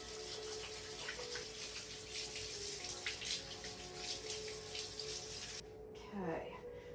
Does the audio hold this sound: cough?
no